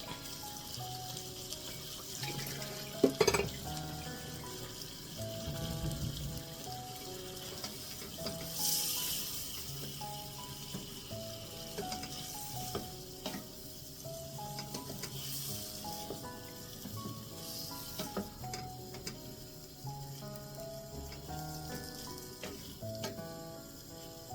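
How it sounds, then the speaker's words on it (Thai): Eggplant is stir-fried in a spicy squid red curry stir-fry, with a steady soft sizzle under scraping and clinking of a utensil against the pan, close but fairly quiet. "ใส่มะเขือไปเลย เราไม่ เราไม่ผัดนาน"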